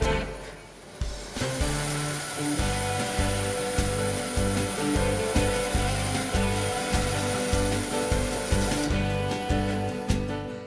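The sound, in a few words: bandsaw cutting wood with tilted table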